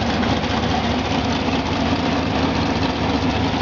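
A 1955 Ford F100 pickup with a 302 V8 runs at a steady idle, a dense, even engine rumble heard close and alone with no break.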